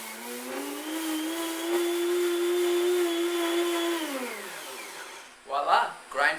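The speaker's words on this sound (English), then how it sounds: "Grind flax" Blender grinding flax seeds, a loud steady motor whine that holds, then sags and winds down, followed by a couple of short bumps and rattles as it stops.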